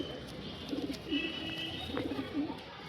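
A pair of Madras pigeons coo in short bubbling phrases, two clear runs of low throaty calls separated by a pause, fairly close over a faint background hum.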